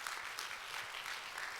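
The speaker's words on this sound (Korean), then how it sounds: "여러분 박수 한번 부탁드리겠습니다." Audience applause at a church youth revival service, a steady wash of clapping from a crowd filling the whole moment without pause.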